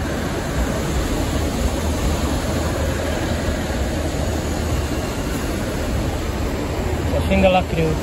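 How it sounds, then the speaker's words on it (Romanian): A train passing at a station in Liverpool, a steady broad rumble and rush of wheels on rail holding throughout, fairly loud and close, with a faint squeal near the end. "Tren plecând către Warrington Central"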